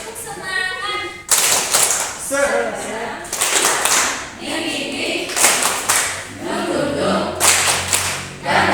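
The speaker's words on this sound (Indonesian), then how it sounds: "Teman-teman ikut saya. Tepuk semangat." Schoolchildren in an elementary classroom clap a rhythmic spirit cheer in quick repeated patterns, loud and close, with a teacher's voice calling out between and over the claps.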